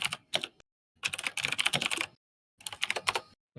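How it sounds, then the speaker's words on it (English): Loud computer keyboard typing close by, coming in quick clattering bursts of keystrokes separated by short silent pauses. "This keyboard is too loud."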